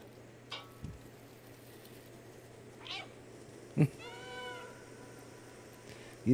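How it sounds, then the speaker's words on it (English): Video-game cat from Stay meowing a few times in a call-and-answer pattern, short rising mews scattered over a quiet low ambient hum. "cats meow because they think that's how we sound to them"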